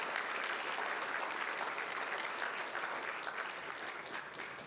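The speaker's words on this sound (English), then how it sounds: "Can you think and thank right now with a hand clap of praise for this moment" Steady, dense hand clapping from an audience at a medical school white coat ceremony, continuous and fairly even across the whole stretch with no talking.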